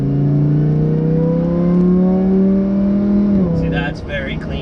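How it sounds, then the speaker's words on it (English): A supercharged Lamborghini engine accelerates hard, its rising whine and roar loud and close from inside the car, then easing off near the end. "Whoa, I heard the supercharger there."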